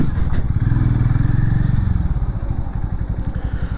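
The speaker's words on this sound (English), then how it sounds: "the motor, the exhaust sound is so engaging on this." A Hero Mavrick 440 motorcycle engine idles and burbles loudly close by, its exhaust giving a deep, steady throbbing pulse with slight rises in revs.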